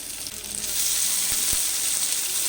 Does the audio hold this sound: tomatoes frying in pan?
yes